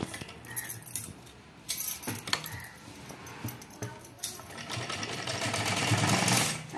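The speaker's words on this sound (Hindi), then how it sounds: "अब इस तरीके से हम ऐसे करके अपने गले को इस पे से सिलाई डाल लेंगे" A sewing machine runs in short bursts while a blouse neckline with a border is stitched, then settles into a longer steady run with light metallic clinks, close and fairly loud.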